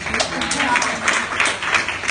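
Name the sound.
audience applause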